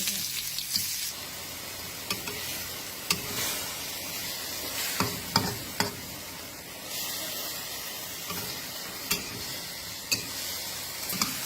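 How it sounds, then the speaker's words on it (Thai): Garlic and minced pork stir-frying in a pan, frying steadily with a bright sizzle while a spatula knocks and scrapes at irregular intervals, close up and with no voices. "วันนี้เรามาผัดใส่บัวกันนะคะเพื่อนๆ ใส่กระเทียมลงไปแล้วเราก็จะใส่หมูบดนะคะ"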